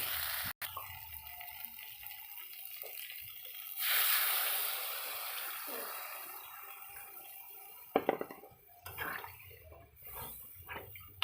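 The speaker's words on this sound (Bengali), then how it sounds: "আমি এবার এখানে জল অ্যাড করে দেবো" Cold water is poured into a pot of egg and potato curry, making a close splashing gush of a few seconds followed by softer trickles and light clinks.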